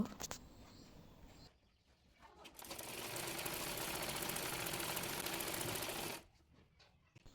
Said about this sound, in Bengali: এরপর কামিজটির নিচের অংশ মুড়িয়ে সেলাই করে নেব।